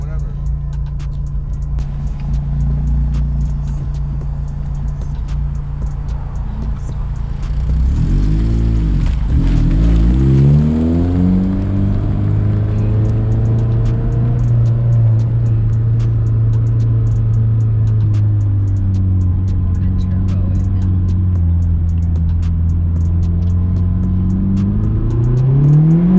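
A turbo Honda Civic drives along with a steady engine drone, then accelerates with the engine pitch sweeping up and dropping through gear changes, loud and close inside the car.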